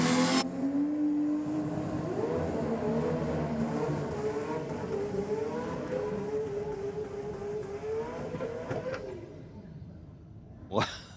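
An R35 Nissan GT-R revs hard at a drag strip during a race night, a loud sustained engine roar with rising and falling pitch, crowd noise and talk mixed underneath.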